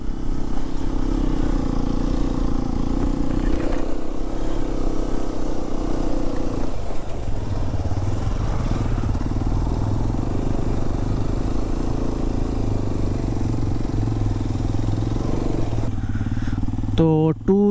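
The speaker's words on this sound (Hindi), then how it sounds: "ये पहले ही गियर में चढ़ रही है बाइक" A Hero Xpulse 210 motorcycle labours up a steep slope in first gear on a night ride toward Himachal, its engine droning loud and steady for the whole stretch, with wind buffeting and a brief clatter near the end.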